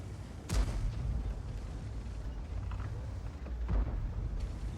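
In World of Tanks, the Object 777 Version II tank gun fires two heavy booming shots a few seconds apart, each followed by a rumbling tail over a low mechanical drone.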